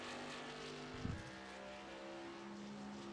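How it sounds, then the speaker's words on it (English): A race car engine in a sim racing game on the Homestead track, a steady droning whine with a brief low thump near the start, heard alone at a quiet level. "All right, we got the car back out on track,"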